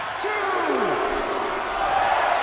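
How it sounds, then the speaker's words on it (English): A wrestling crowd roars and cheers at a distance, with whoops and yells rising over steady arena hubbub while a commentator talks over it. "You can hear the crowd. They're cheering him."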